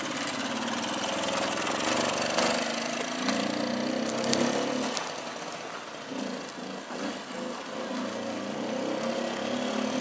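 A vintage Motom Daina moped, over fifty years old, runs on its stand with a steady buzzing two-stroke engine that rises and falls in revs, loud and close throughout.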